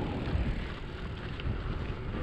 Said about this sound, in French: Donc là il y a un petit peu de vent là, je sais pas si tu vas m'entendre